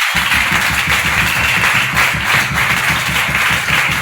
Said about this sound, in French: Merci de cette acclamation.